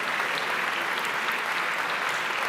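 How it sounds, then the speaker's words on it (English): Conference audience applauding as broadcasters walk on to join a panel on streaming and Canadian media, a steady, even wash of clapping that holds at the same level from start to finish. "Please give a massive, massive round of applause and appreciation for the broadcasters who are going to join us on the panel."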